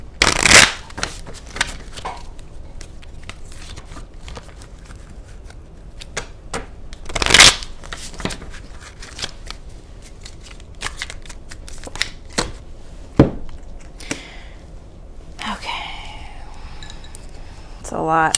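A deck of cards being shuffled up close in bursts, with sharp riffling flurries spaced apart and quieter handling and faint movement between them.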